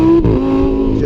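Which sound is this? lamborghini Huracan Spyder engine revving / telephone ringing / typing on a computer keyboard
lamborghini Huracan Spyder engine revving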